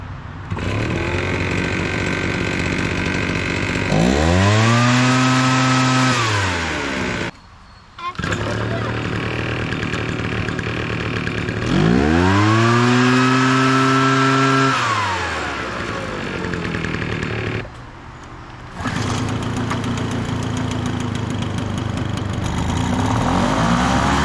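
A late-1990s Honda Harmony and other small power-equipment engines are pulled to life one after another, each revving up then settling into a steady, buzzy idle with a few brief cutouts between runs, loud and close.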